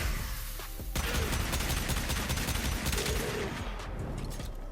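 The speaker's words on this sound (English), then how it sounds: "Wisp should be good for things like this, because this is a very slow firing weapon" Gunfire from an Aklex Prime, a slow-firing weapon in the video game Warframe, rings out as a dense, loud barrage of shots over constant battle noise.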